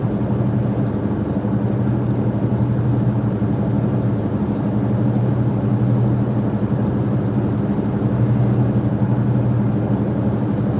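A continuous low engine drone hums steadily throughout, like road traffic heard from inside a vehicle, with no voices.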